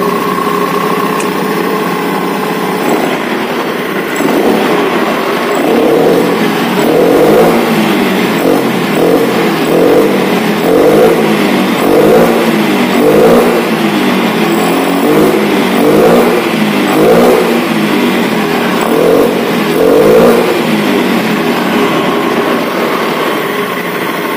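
A Honda Scoopy FI scooter engine, just reset after hesitating on initial throttle, idles close by with a steady buzz, then revs repeatedly in a rhythmic series of rising and falling pulses before settling back to idle.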